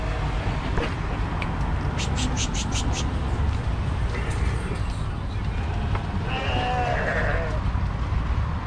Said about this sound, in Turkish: Bunlar koyun değil mi? Bunlar koyun abi.